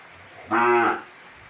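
A Sindhi breed heifer calf on a clean farm gives one short, close, fairly loud moo that lasts about half a second, with quiet surroundings before and after.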